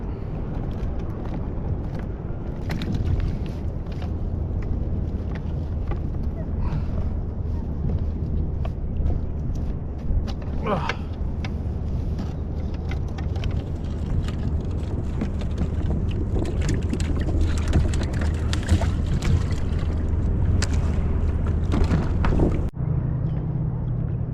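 A kayak drifting on open sea water off La Jolla, San Diego, with steady low wind rumble buffeting the microphone, faint water lapping and occasional knocks against the hull, continuous and close, no speech.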